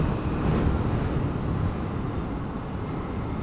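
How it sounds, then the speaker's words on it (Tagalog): Strong wind buffets the microphone while riding a Vespa scooter toward Tagaytay, a continuous loud low roar with no clear voice over it. "Lakas ng hangin."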